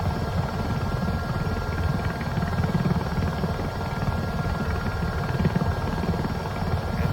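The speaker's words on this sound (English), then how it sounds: "But in a helicopter, like, there's a lot of controller controls that I can mess with to make this happen" A helicopter in Microsoft Flight Simulator 2024 drones steadily with a dense, constant rotor and engine roar that holds loud and unchanging throughout, with no voices over it.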